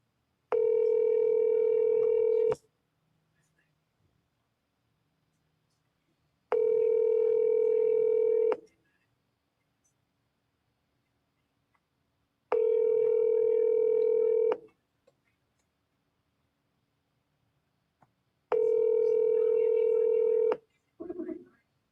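An outgoing telephone call rings four times, each long steady ringback tone separated by roughly four seconds of near silence, clear and close with no talking.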